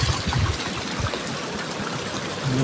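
Water runs steadily through a stream in a forest near a waterfall, a continuous close rushing trickle with a faint low voice at the start and end.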